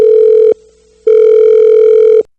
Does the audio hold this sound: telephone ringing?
yes